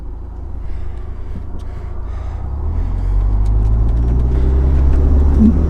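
Turbocharged engine of a 29-year-old Chrysler LeBaron convertible accelerating, a steady low rumble that swells and grows louder midway, heard from inside the car with no talk.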